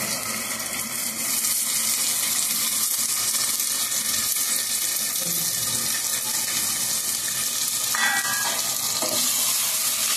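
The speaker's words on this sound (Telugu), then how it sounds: "ఎండు చేపలు వేయిస్తుంటే భలే వాసన అయితే వస్తున్నాయండి" Dried fish frying in a clay pot, a loud steady sizzle and hiss lasting throughout with occasional faint clinks.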